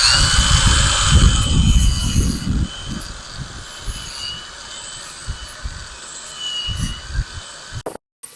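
A light flap disc grinding rust on a 1968 Plymouth coupe body, loud rough whirring bursts at first, then intermittent shorter grinds and pauses, close by.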